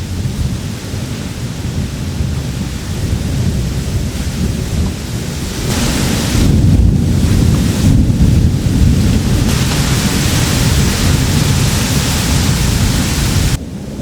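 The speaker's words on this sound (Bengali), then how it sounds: "ঝড়ের এই সময়টিতে একদিকে প্রচুর পরিমাণ বাতাস হচ্ছিল" Strong wind from a Kalbaishakhi storm over a village buffets the microphone in a loud, roaring rush mixed with rain and thunder, swelling harder midway and dropping slightly at the end.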